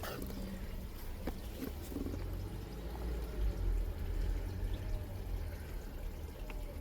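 Water runs and rinses soil off the sides of a thrifted succulent planter holding Echeveria, a steady close gushing splash that continues throughout without talk.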